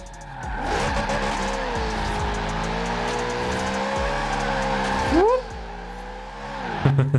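A Lexus RC F with a 5.0 V8 and bodykit drifts in Forza Horizon 4, its engine holding a loud, steady high-rev wail under tire squeal, then a sharp rev flare and drop before a brief spike at the end.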